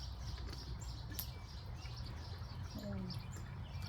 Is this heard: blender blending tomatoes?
no